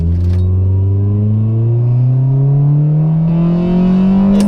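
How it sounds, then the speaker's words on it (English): Modified Honda Del Sol accelerating hard in first gear, a loud, close engine note climbing steadily in pitch through the whole pull with no talk over it. "I'm gonna give it a little first and second gear pull, just, you know, to see how she goes."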